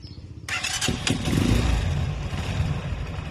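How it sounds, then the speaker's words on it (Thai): A Xin Wang 200cc motor tricycle engine cranks and catches, then revs up loudly and close before settling into a rough, throbbing idle. "อันนี้ก็สตาร์ทแล้วก็เบิ้ลเขานิดนึงค่ะ"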